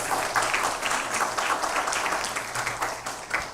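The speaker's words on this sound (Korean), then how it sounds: "우리 반주해 주시는 분들에게 감사의 박수하겠습니다." Chapel congregation clapping in thanks to the service accompanists, a steady crowd of many hands applauding continuously throughout at moderate loudness, with no voices standing out above it.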